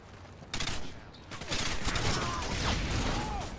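Rapid automatic gunfire in Modern Warfare 2, a dense, continuous rattle of shots with a rumbling low end, growing louder after the first second and carrying on throughout.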